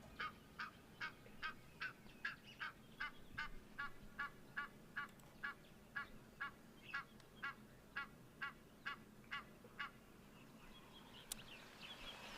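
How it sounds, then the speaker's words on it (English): An Egyptian goose parent at the water's edge near its goslings honks in a steady run of about twenty evenly spaced, hoarse calls, moderately near over quiet outdoor background, then falls silent. "what you can hear right now is what we're looking at. That is the Egyptian geese"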